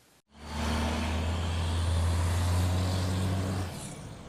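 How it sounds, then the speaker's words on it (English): A loud truck passes by outside, its deep engine rumble swelling in quickly, holding steady and heavy for about three seconds, then easing off as it moves away, with no voices over it. "It's just a loud truck passing by."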